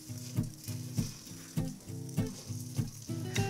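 A steak fries in a pan with a soft sizzle that swells and fades in a steady pulse, joined by regular low thumps and clinks roughly every half second; quiet and close, no speech.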